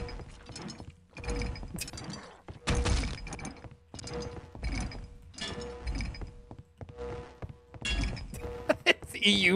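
Repeated wrench melee swings and hits land in Opposing Force multiplayer, a steady run of metallic whacks and clanks over game noise, with a player's voice in places.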